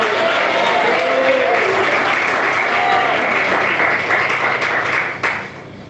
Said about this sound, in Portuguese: Quem bate palmas agora a Deus?